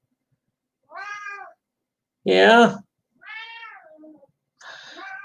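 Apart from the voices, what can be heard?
cat meowing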